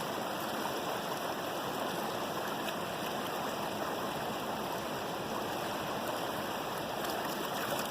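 Water washing through a heavy gold pan full of material, a steady rushing, splashing flow heard close and unbroken throughout.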